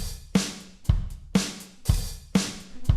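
Big studio drum kit with room reverb, alternating booming kick and snare hits in a steady slow pattern, each hit ringing out into a roomy tail, loud and close.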